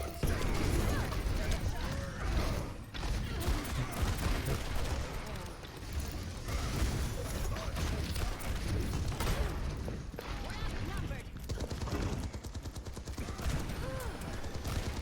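Ashe's coach gun fires in Overwatch, a heavy blast among dense gunfire, clanking mechanisms and creaks from a hectic match, with a voice talking over the action.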